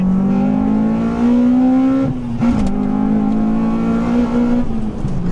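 A Honda Civic Type R with an aftermarket air filter revs hard, its engine note climbing steadily into a louder, harsher top-end tone as VTEC engages, with a brief dip and recovery midway; close and loud, no talking.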